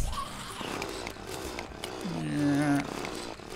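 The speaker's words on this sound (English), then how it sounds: "Let's get my drill." A drill tool in the video game Terraria whirs and buzzes in short bursts, a harsh motorized grind that rises to a tonal whine, mixed with game music and effects.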